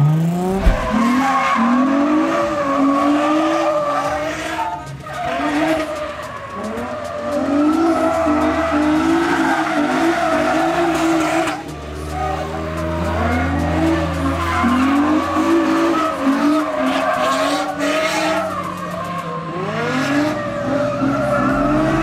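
A car drifting through figure-eight runs, one following another, with loud, continuous tire skidding and squealing over engine roar, rising and falling in pitch through the whole stretch.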